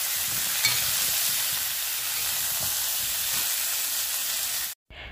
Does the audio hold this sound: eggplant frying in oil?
yes